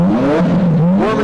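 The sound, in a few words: IndyCar race car engine warming up before qualifying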